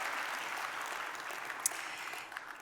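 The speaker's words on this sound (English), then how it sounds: "Let's give them a round of applause for online." Audience applause at the StandWithUs Festival of Lights event in Los Angeles: steady, moderately loud clapping from a crowd that holds even and then thins out toward the end.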